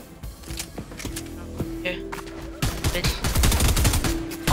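Weapon gunfire in the Fortnite video game, a series of loud shots that builds into rapid sustained bursts, mixed with game sounds and mechanical clicks.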